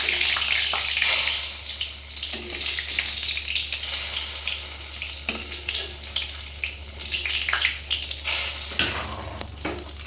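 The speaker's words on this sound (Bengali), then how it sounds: "এবার কিন্তু আমি এটা দিয়ে দেবো 5 ফোড়ন দেওয়া তেলটা আর তেজপাতাটা।" Hot oil tempered with five-spice and a bay leaf poured into simmering vegetarian khichuri, giving a loud, continuous sizzle and bubbling hiss with occasional stirring clatter, running unbroken for about ten seconds.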